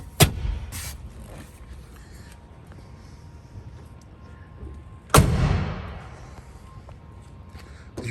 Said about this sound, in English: Did you hear how the door closed?